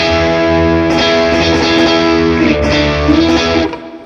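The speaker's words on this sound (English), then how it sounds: "Once again, that's the high gain option." Electric guitar through a Chase Bliss Brothers AM pedal set to high-gain distortion with gain all the way up: thick sustained chords and a few picked notes, loud and saturated, cutting off near the end.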